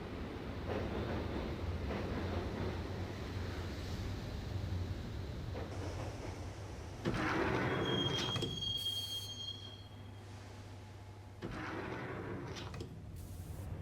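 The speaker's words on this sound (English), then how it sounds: "the train doors had already shut behind me, and I was in for the ride" Subway train ride in the Max Payne game, a continuous rumbling roll of wheels on track with a loud metallic squeal midway and a steady low drone.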